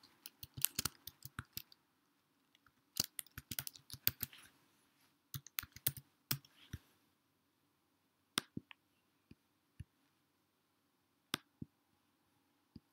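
Quiet, close computer keyboard typing while a file name is entered, with sparse clusters of crisp key clicks, then isolated single taps spaced apart, alone without talk.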